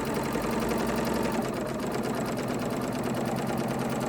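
A sewing machine over-sewing a fabric edge, adding thread along it, with a continuous rapid needle rattle and motor hum, steady and close throughout.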